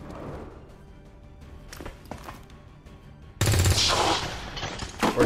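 Gunfire from the XCOM 2: War of the Chosen video game erupts as a sudden loud burst after a quiet stretch of faint clicks and ambience.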